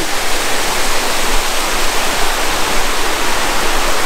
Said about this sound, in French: J'entends de l'eau, ouais, ça a l'air bien sympa ici